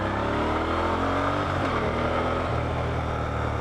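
A Moto Guzzi Griso motorcycle engine pulls hard under acceleration, a deep, throbbing V-twin drone that climbs in pitch through the gears, heard close and loud with wind rush and no talk.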